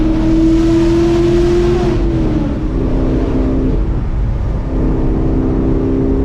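A Chevrolet Camaro's engine, heard from inside the car, drones loudly and steadily, then drops in pitch as the driver downshifts and settles back into a lower, sustained roar.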